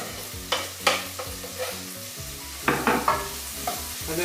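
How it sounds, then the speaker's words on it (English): Diced onions, garlic and ginger sweating in a pan for spicy rice served with Bangladeshi roasted lamb: a continuous gentle sizzle broken by several close spoon-stirring scrapes in irregular bursts. "The onions are sweated now. I'm going to add the garlic and the ginger"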